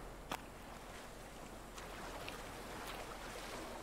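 Ocean waves wash steadily in The Forest video game, a soft continuous surf hiss that is faint and even, with a few light clicks on top.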